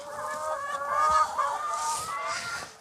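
Hens on a hand-run free-range farm of about a hundred birds cluck and chatter nearby in a continuous, overlapping stream of calls.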